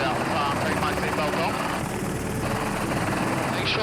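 A helicopter idling on the ground in Kenya gives a loud, steady rotor and engine roar close by that fills the whole clip, with people talking over it.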